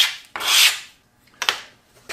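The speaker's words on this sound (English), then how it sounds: "So I've got some 120 grit sandpaper here. I'm just going to put just a light chamfer on both edges," Two broad sanding strokes rasp along the edge of a wooden trestle horse part as 120 grit sandpaper eases a light chamfer, a long scrub followed by a shorter one, close and fairly loud with no talk.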